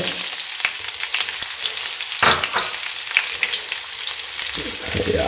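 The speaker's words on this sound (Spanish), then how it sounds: "Muy bien, pues ya están los ajitos ahí doraditos y ya incorporamos ya la cebolla" Onion drops into golden garlic frying in a pan, setting off a constant crackling sizzle with a burst partway through as it hits the hot oil; close and loud, with no talk.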